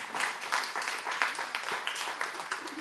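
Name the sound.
audience applauding in a room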